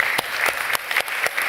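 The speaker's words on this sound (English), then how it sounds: "I think that'd be a great time to just give a quick round of applause." An audience at a business awards lunch claps in a brief, dense burst, with many hands close together and a few sharper claps standing out.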